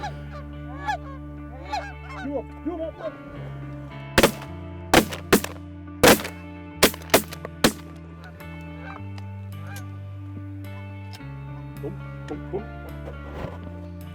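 Canada geese honk repeatedly in a goose hunting setting on snowy ground with decoys, calls loud and overlapping, broken by several sharp shotgun blasts in quick succession, and a voice briefly speaks.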